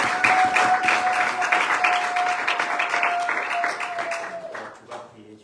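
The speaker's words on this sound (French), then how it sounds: "Est-ce qu'on peut encore acclamer très très fort" Sustained applause from a church congregation, dense and loud, with a steady held tone underneath, fading toward the end.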